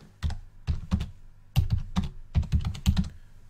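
Computer keyboard keys clatter in quick bursts as a new task is typed, several clustered keystrokes separated by short pauses, close and crisp with no talking.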